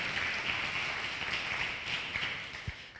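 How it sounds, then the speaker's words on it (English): Audience applause at a talk on Black economics, a steady wash of clapping from a crowd that holds evenly and tapers slightly toward the end. "Give the Tubman City Black Power Resource Guide a round of applause."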